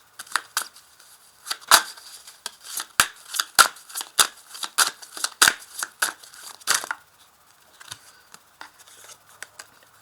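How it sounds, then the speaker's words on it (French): Tarot cards are shuffled by hand, a run of sharp, crisp snaps and riffling flicks in quick irregular bursts, close and fairly loud, settling into quieter scattered clicks near the end. "il y a une carte qui tombe, 3 cartes"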